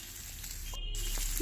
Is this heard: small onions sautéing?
yes